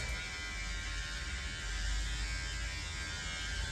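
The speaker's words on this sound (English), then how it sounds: "I'm not shaving like correctly though." An electric shaver buzzes steadily and loudly at close range, a continuous droning hum with no pauses while someone shaves.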